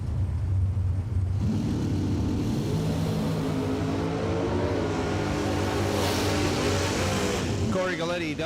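Bracket racing drag car engine at the starting line, a loud rumbling idle rising into repeated revving bursts that climb in pitch, heard close with an announcer talking over it.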